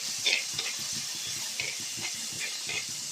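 Mustard seeds, curry leaves and small shallots frying in hot oil with salt, a steady hiss and sizzle broken by light popping and occasional utensil taps close by.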